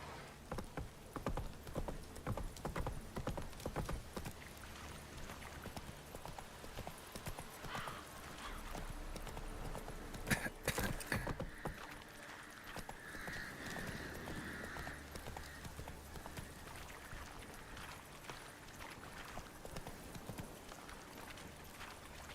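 Video game horse hooves clip-clop steadily in a quick, even rhythm as the horse is ridden, faint and continuous throughout with no talking.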